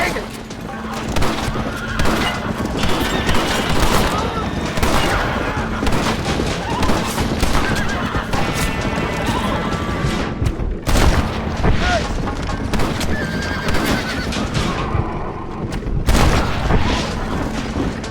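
Repeated gunshots and booms in the Red Dead Redemption western game, a continuous loud barrage of cracks and thuds over a chaotic action mix, with shouting voices throughout.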